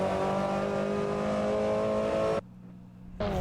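Steady, loud engine drone of a TCR race car in a sim racing game on the Knockhill circuit, holding a constant pitch before a brief drop-off and a quick return of the engine note.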